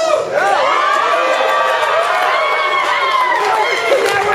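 A large audience at a 2011 SOE Fan Faire panel on EverQuest II art and animation cheers loudly and steadily for new kilt wearables, a dense roar of voices and whoops lasting several seconds.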